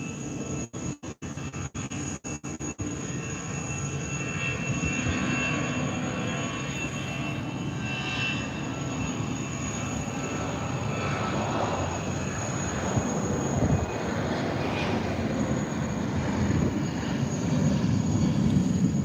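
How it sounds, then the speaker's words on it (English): A jet aeroplane passing at Heathrow at night rumbles with a broad, steady engine roar that builds slightly and holds, heard from a rooftop after a few brief clicks at the start. "It sounds like an aeroplane."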